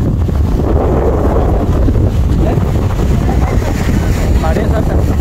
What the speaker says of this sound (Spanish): No sé si me alcancen a escuchar por el viento, porque está un poquito fuerte.